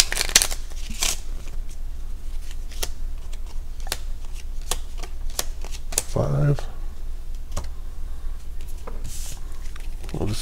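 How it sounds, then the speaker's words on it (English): Battleship Hidden Threat game cards are dealt into a hand, giving a series of light, sharp snaps and flicks at an irregular pace against a low background hum. "And you're going to deal 5 cards to yourself."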